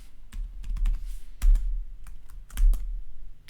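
Keys struck on a computer keyboard while a root password is typed during a CentOS 7 Linux login, a close run of quick clicks in three bursts, with no voices.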